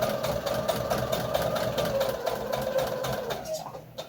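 A sewing machine stitching a foundation paper pieced Christmas star quilt block: a fast, even mechanical whir with rhythmic needle ticks, running steadily close up before stopping abruptly near the end.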